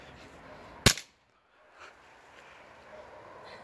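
A single sharp airsoft gun shot crack, fired at balloons, stands out against quiet outdoor background, followed by a brief silence and faint ambient noise.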